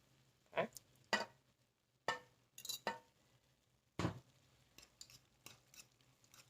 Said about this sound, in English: We're going to stir that in and make us a nice meat sauce.